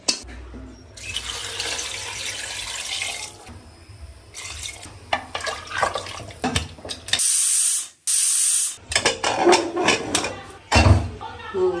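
A pressure cooker holding chicken, a home-cooked rooster, hisses and sprays steam in loud, harsh bursts, with a sharp high whistle near the middle, while a person talks intermittently nearby.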